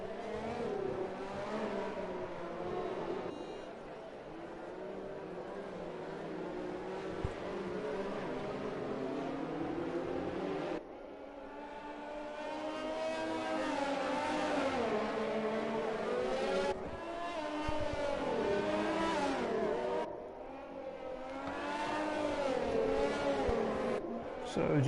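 Formula-style race cars in a racing game weave aggressively behind a safety car at Azerbaijan to heat their tyres, engines whining and rising and falling in pitch, with a commentator talking over them.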